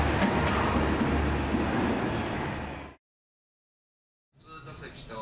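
The Resort Shirakami rapid train runs on the rails with a steady, loud rumble. The sound cuts abruptly to silence, then resumes.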